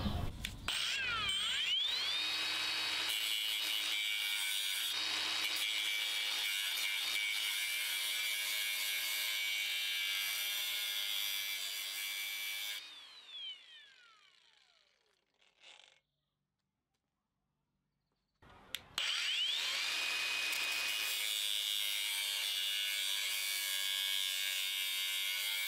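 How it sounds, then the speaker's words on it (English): Angle grinder cutting open a metal oil filter: a loud, steady high-pitched whine that runs for about twelve seconds, winds down into near silence, then starts up again at full volume, with no talk over it. "So next I'm gonna use my angle grinder and cut it out and see what's inside."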